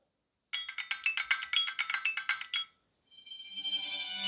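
A ringtone preview on a Google Pixel 10a phone plays a bright chiming melody of quick repeated notes for about two seconds, then a brief pause before a second, shimmering tone begins and swells, clear and close with no talk.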